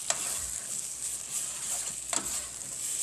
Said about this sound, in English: a little thyme, cayenne pepper, Worcestershire sauce. I'm going to mix this all up together.